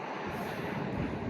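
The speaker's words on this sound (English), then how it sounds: "It's so windy I'm going to drop my phone." Strong wind buffeting a microphone at the Hoover Dam, a dense continuous roar with gusty swells across the short stretch, no voices.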